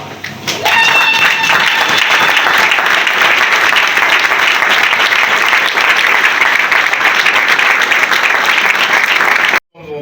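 A standing audience at a political party congress closing applauds loudly, a dense sustained roar of many clapping hands with some faint tonal sounds early on, then cutting off abruptly near the end.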